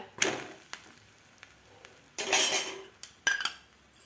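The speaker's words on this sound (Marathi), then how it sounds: "पराठा तर आपण आता पलटी करून घेऊया" A mixed vegetable paratha is flipped on a pan: scattered metallic clinks and scrapes of a utensil, with two louder bursts of clatter and brief sizzle, close and without speech.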